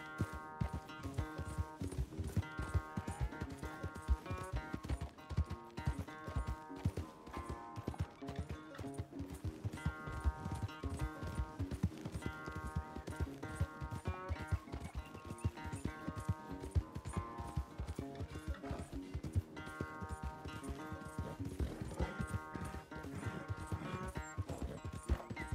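Rapid, steady hoofbeats of a galloping horse in the Red Dead Redemption 2 video game, running continuously under loud, layered game music.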